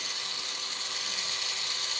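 A rod-turning motor spins a custom fishing rod while epoxy dries, giving a loud, steady high-pitched whine that holds without a break, with no talk over it.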